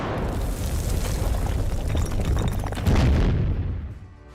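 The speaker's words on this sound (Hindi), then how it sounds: "यूक्रेन ने आर्टिलरी रशियन ठिकानों में गोले दागे" Artillery shells exploding during the fighting in Bakhmut, Ukraine roll out as deep, rumbling booms, with a heavier blast near the end that fades away, no talking over it.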